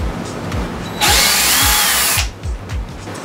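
A power drill whirs loudly for about a second, boring a pilot hole into a wooden hammer handle, with soft rhythmic thumps before and after.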